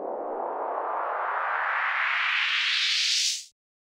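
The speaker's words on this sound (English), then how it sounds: "A white noise riser I made from serum." White noise riser synth effect made in Serum for a rap beat, a single loud, steady hiss sweeping upward in pitch for about three and a half seconds before cutting off abruptly into silence.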